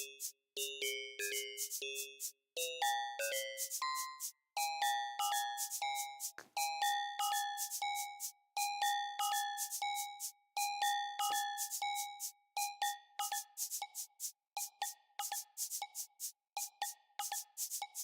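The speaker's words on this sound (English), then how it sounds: "so now I have a little bit of a cowbell" Synthesized metallic cowbell-like tones in a repeating rhythmic pattern, bright and percussive, shifting pitches early then settling into a steady pulsing figure.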